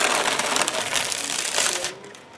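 A heat-applied transfer sheet is peeled away from a garment, a brief crackling, crinkling tear lasting about two seconds, close and fairly soft, ending abruptly.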